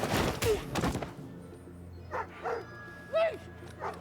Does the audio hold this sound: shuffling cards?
no